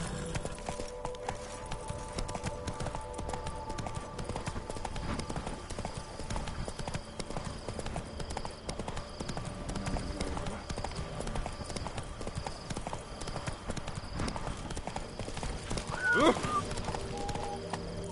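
A horse galloping in the video game The Witcher 3, steady rhythmic hoofbeats running throughout at moderate level, with a brief whinny-like cry near the end and a voice speaking over it.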